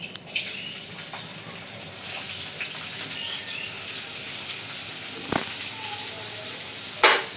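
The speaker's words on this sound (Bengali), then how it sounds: "পটল ভাজা তেলের ভিতরেই পেঁয়াজটা দিয়ে দিচ্ছি।" Chopped onion sizzles in the hot oil left from frying pointed gourd, a steady broadband frying hiss with a couple of sharper spits and clinks near the end.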